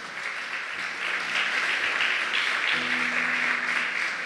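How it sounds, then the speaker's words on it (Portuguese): A church congregation applauds loudly and steadily, a dense wash of clapping from many hands in a worship hall, with faint tones beneath and no break. "Vamos aplaudir Jesus em forte."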